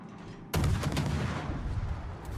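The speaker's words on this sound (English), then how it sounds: "Here come the secondaries from the Bayern" Secondary guns of the battleship Bayern fire in a naval video game: a sharp loud blast opens a dense rumbling barrage of booms and crackle that carries on without voices.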